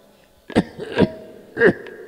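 Three short, rough coughs in quick succession, close by, with a faint throat sound in between.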